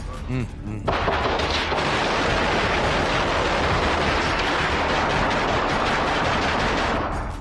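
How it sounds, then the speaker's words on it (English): A shooting suspect's gunfire comes as a dense, loud, continuous crackle of rapid shots that persists for several seconds after a brief quieter lead-in, with voices faintly audible beneath. "he's popping off rounds every once in a while"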